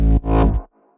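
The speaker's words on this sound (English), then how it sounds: "there's these little bass reverses that sound like this" A reversed-sounding bass synth note with a slow attack from a Kaskade and Gorgon City Go Slow remake: one short swelling tone that rises, cuts off abruptly and leaves a faint tail, with no one talking.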